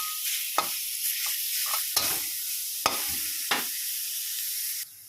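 Minced pork is stir-fried in a pan over a continuous sizzle, with about five sharp spatula scrapes against the metal in quick succession close by. No one speaks.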